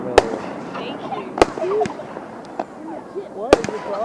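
Fireworks going off in several sharp, loud bangs spread across a few seconds, with crackle in between and people talking nearby.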